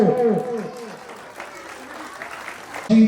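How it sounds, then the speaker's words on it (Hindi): Parents clap at a school annual function, a fairly soft spell of applause that follows a speaker's voice and is cut short when the voice returns at the end. "स्वागत तो तभी पूरा होता है जब इन सब के लिए आपकी जोरदार तालियां हो"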